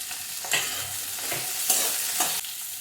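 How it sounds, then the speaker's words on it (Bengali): Potato and pumpkin pieces fry in a pan, a soft sizzle broken by several scraping stirs of the spatula at irregular intervals, close and fairly quiet, with no voices. "আলু আর কুমড়োটা ভাজা ভাজা হয়ে গেছে"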